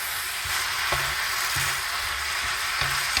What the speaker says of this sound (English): Keep tossing it until the tomatoes are a little bit softer